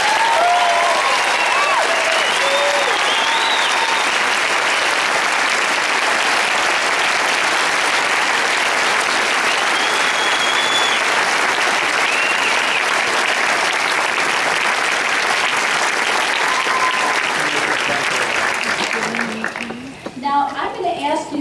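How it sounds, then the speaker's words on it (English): A large audience breaks into sustained, loud applause, a dense wall of clapping that carries on steadily for about nineteen seconds before tapering off abruptly at the end. "I think all of us ought to give this sea of white coats a great big round of applause."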